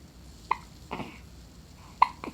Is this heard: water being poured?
no